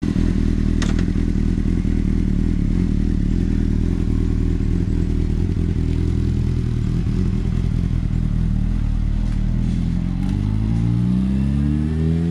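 A 2006 Honda CBR 600 RR motorcycle engine runs loud and close with a heavy low rumble and crackling, then its pitch climbs sharply near the end as it revs.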